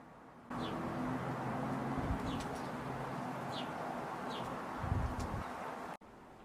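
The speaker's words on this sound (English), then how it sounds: "go back to listening to the birds again" Birds around a family home garden in Portugal: scattered faint high chirps and low cooing calls over a steady outdoor hush, then a brief louder rustle before the sound cuts off.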